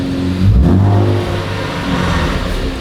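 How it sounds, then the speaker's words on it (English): A 2023 Nissan Z with bolt-on modifications revs loudly and close by, the engine note climbing quickly and holding steady at a high pitch with no voices over it. "It definitely revs faster. The rev hang is not as bad."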